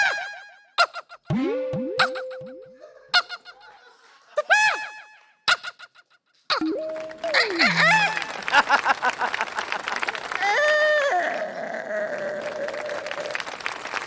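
On a Tamil TV comedy stage, a performer vocally imitates a drunk rooster crowing: wobbly, sliding honks and broken crows, close and loud, then applause and a final warbling crow over audience noise.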